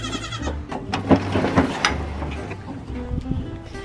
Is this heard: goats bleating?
yes